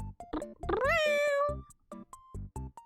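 A house cat named Toast meows in a long, rising, drawn-out call, loud and close, with a few shorter mews before and after it.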